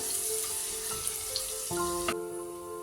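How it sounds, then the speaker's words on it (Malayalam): Crushed garlic dropped into hot oil for a Coorg crab roast, giving a steady close sizzle and crackle that brightens and swells partway through as more garlic hits the pan. "ഇനി ചൂടായ എണ്ണയിലേക്ക് വെളുത്തുള്ളി ചതച്ചത് ഇട്ട് കൊടുക്കാം."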